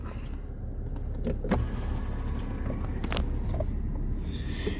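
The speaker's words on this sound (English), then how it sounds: "Sunshades will come out." A low, steady electric motor whir hums for several seconds inside a 2016 Porsche Panamera Edition as the sunshades extend, with a few faint clicks and taps over the drone.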